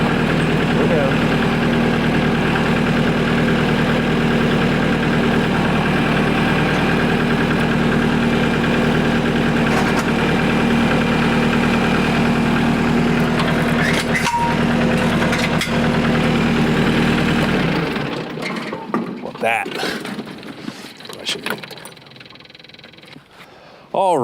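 A tractor engine idles steadily and loudly during hookup of a Harbor Freight three-point quick hitch, a constant low rumble that cuts off near the end, leaving clanks and quieter background.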